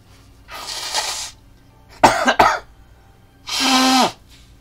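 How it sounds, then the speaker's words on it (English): Someone with a stuffy nose blows it in two forceful, breathy bursts with a short pair of throat-clearing or cough sounds between them, close and otherwise quiet. "Gotta blow my nose, guys. Feels stuffy."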